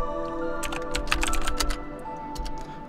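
Rapid bursts of keystrokes on a computer keyboard while typing into game chat during a WWE 2K16 session, close and crisp clusters of clicks over a faint background hum, with no talking.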